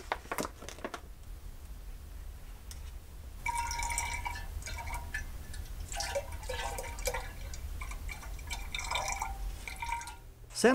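Water drips and trickles while a fermentation water lock is sanitized for home brewing, with bursts of clinking and splashing that stay fairly close and grow busier midway through.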